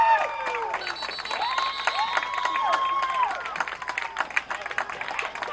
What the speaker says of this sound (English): Crowd getting behind the Cougars here at the athletic complex